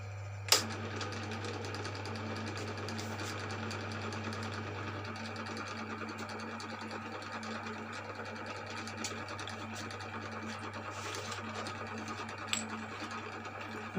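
Boring machine cutting the cylinder block of a Mio M3 motorcycle, a steady low motor hum with a faint continuous grinding texture and a couple of sharp clicks, heard alone at moderate level.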